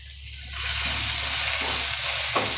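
Ginger, chili and garlic paste hits hot oil, and a steady, close sizzling and frying hiss starts up and carries on loud to the end, with a soft stir or scrape near the finish.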